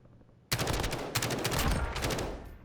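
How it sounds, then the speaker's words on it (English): Gunfire crackles in a battle royale video game, a sudden burst of rapid shots starting after a quiet moment and continuing in clustered volleys, fairly close and loud, with no voices. "I hear gunshots."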